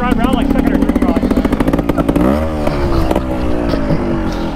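A trials motorcycle putts along in low first gear, its engine pulsing in quick even beats close by, then the pitch swoops as the throttle shifts and a voice talks over it.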